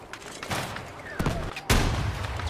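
Bursts of gunfire aimed at a tank during an online shooter game match, with a couple of sharp loud cracks and rattling shots over steady game background noise.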